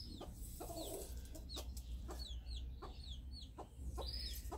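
A bantam hen clucks steadily in a farmyard with a young chick, short repeated clucks close by over constant background noise and chirping.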